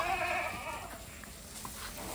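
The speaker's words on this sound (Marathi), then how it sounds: "शेळ्या आहेत त्या." Goats bleat briefly at the start, a short wavering cry fairly close by, then fading into quiet outdoor background.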